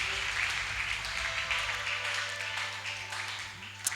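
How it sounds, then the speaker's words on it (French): A church congregation applauding together during worship, a steady wash of many hands clapping at moderate distance, with faint voices mixed underneath. "Acclamons encore une fois de plus pour sa gloire"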